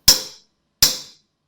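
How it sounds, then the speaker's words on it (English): Two sharp hammer blows strike a crooked metal gate piece during a metal gate build, each a bright metallic impact that rings out briefly, spaced under a second apart with no talk. "you can hit it with a hammer"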